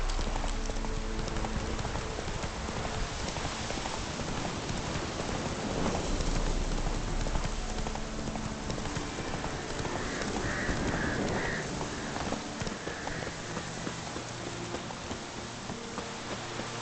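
Steady hooves from Roach, the horse in The Witcher 3, clip-clopping in a continuous rhythm for the whole stretch, mixed with a rain-like hiss.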